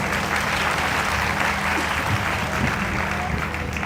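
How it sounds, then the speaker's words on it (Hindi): Loud, dense applause fills the space without a break at a devotional gathering, a crowd clapping steadily and evenly from start to finish. "जोरदार तालियां बजाइए"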